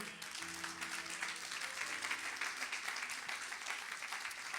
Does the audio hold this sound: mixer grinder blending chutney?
no